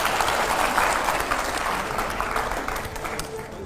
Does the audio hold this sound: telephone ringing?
no